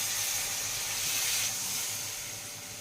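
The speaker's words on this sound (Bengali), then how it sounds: "এবার আমি জলটা দিয়ে দিচ্ছি" Water poured into a hot pan of masala for doi katla, a loud steady steam hiss that swells and then slowly fades, heard alone.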